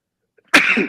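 A single sudden burst of breath after silence, a sharp explosive sneeze that trails off with a short voiced tail.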